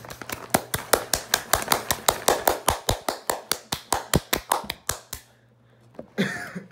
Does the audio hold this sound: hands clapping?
yes